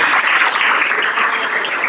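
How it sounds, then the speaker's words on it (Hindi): Audience applause at a spiritual talk by a Hindu devotee speaker, a dense steady wash of clapping from a large crowd that stays loud and even for the whole two seconds, with no talking over it. "सबके लिए तालियां जोर से।"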